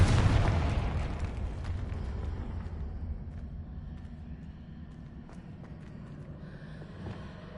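A Confringo blasting spell in the Hogwarts Legacy video game goes off with a loud, booming explosion, then a long rumbling decay that fades slowly.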